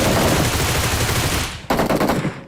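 Rapid automatic gunfire in the BGMI mobile battle royale game, a dense loud burst of shots, a brief pause, then another short volley close up.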